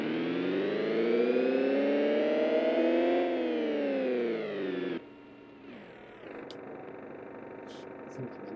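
Modded car engine in BeamNG Drive, a buzzy synthetic tone that climbs in pitch, holds, then drops sharply to a lower idle-like drone with brief clicks toward the end.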